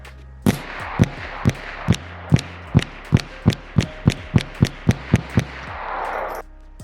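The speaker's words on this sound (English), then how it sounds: "I'm just going to shoot at the stump." A Ruger 10/22 rifle firing .22LR rounds at a tree stump outdoors produces about sixteen sharp, loud cracks in a rapid, fairly even string.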